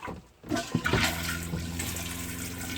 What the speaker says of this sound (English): Let's turn the water pump on.